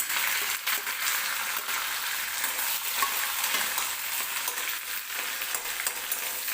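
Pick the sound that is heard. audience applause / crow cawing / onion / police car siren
onion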